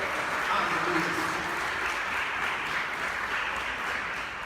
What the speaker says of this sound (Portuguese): Vamos dar uma bela e forte salva de palmas para o nosso Senhor Jesus